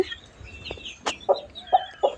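A hen with twelve chicks clucks close by in short, uneven bursts, with a few higher chirps mixed in over a quiet background.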